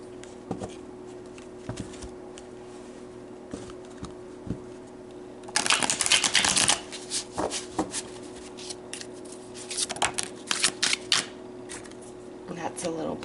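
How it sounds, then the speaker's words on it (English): A tarot card deck is shuffled by hand in bursts of rapid, close riffling and flapping, with softer taps and card handling between them, alongside a person's talk. "I was going to cut right there, but it's like, nope, do another shuffle"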